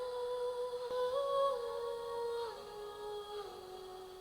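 Genshin Impact game audio played through a Xiaomi 14T Pro phone speaker, a quiet, thin musical passage with a sustained melodic line and soft chiming tones, faint and distant-sounding.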